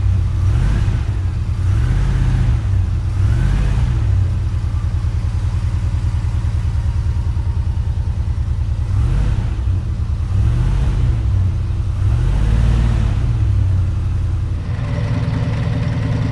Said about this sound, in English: you can hear like the engine rattling away quite nicely